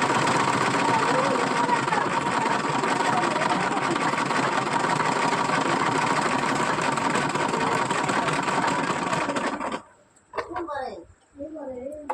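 A sewing machine stitches steadily, giving a loud, even mechanical whirr for about ten seconds before it stops and a person speaks briefly.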